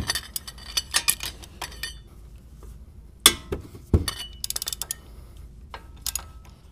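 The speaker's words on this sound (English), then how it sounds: "So these are on pretty tight, so I'll crack them with a breaker bar." Breaker bar cracking loose tight brake caliper bolts on a 2006-2011 Toyota Camry: close metallic clinks, ratchety ticks and a couple of sharp clanks as the tool shifts and the bolts give.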